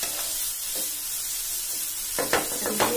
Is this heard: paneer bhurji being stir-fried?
yes